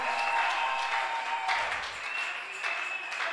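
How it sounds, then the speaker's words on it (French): A church congregation applauds in a sustained, fairly faint wash of clapping that swells and eases slightly, with a voice speaking over it. "Let's put our hands together for the Lord."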